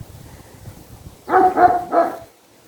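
A dog barks three times in quick succession, fairly close and loud, after a moment of quiet background.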